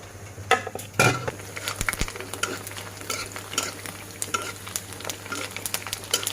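Fuchka puris frying in hot oil at home, with a steady sizzle and bubbling broken by sharp clinks and scrapes of a utensil stirring and turning them in the pan, close and fairly loud.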